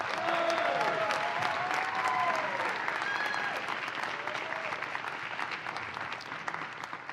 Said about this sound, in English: A big round of applause for Professor Martin.